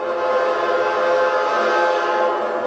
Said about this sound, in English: No, train.